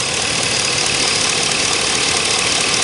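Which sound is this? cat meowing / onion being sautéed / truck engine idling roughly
truck engine idling roughly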